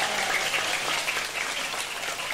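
Dense, continuous applause from a crowd at a Jathilan traditional dance performance, loud and filling the whole stretch with no voices on top.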